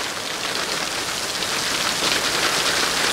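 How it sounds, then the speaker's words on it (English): Steady rain hisses and patters on a surface, a dense even wash of drops with no voices. "It's raining."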